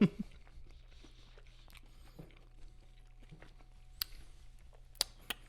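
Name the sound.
chewing chicken nuggets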